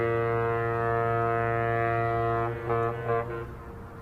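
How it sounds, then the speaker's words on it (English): A deep, loud foghorn blares in one long sustained blast, wavering and fading near the end, with no other sounds. "boat foghorn"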